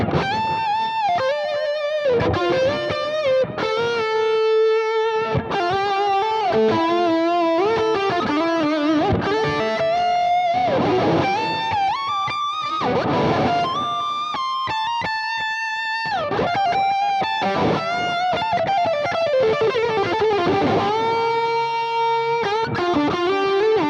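Electric guitar played through a Lone Star amp with reverb, a melodic lead of sustained notes and bends ringing out continuously and fairly loud, with no talking over it.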